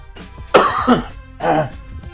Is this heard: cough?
yes